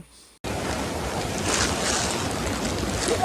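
After a brief quiet moment, loud rushing river water surges in and flows steadily, a close, continuous broadband roar.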